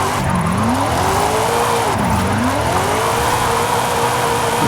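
A Buick GNX drifts in Forza Horizon 5, a loud, continuous engine drone with tires squealing and pitch sweeping down and back up twice as the car slides, steady and close.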